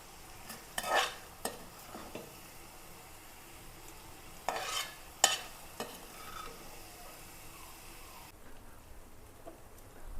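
Prawns frying in a pan, a steady low crackle with several sharp louder scrapes and clinks of a utensil lifting them out, alone without talk.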